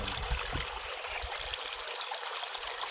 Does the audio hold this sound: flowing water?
yes